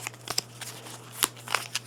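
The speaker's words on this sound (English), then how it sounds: "I'm going to get out the unique artifacts. Boom. Here they are. Let's shuffle them up" A deck of unique artifact cards from a board game is shuffled by hand, giving quick riffling flutters and soft snaps over a faint steady hum.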